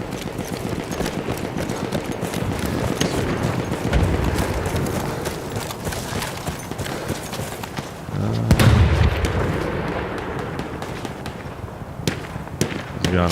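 Horse hooves in the first-person shooter Battlefield 1, clopping amid a dense mix of gunfire, booms and explosions, with a heavy blast near the middle and voices faintly under the battle noise.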